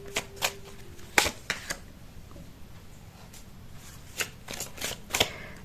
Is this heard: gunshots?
no